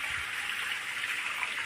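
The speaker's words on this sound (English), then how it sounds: "pumping water into the base of both of the filter chambers" A small pond pump runs continuously, pushing water into the base of two filter chambers, giving a steady close rushing and trickling wash with no pauses.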